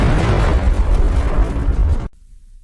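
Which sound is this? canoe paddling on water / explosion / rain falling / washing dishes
explosion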